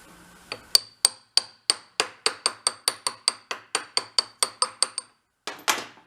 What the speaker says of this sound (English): get them tapped back on both sides